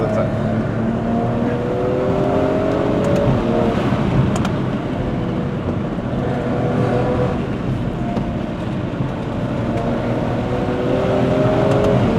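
Stage 2+ tuned G20 BMW M340i on a Genting hill run in Malaysia, its engine droning steadily under load from inside the cabin, a continuous low rumble with rising harmonic tones and faint talk beneath.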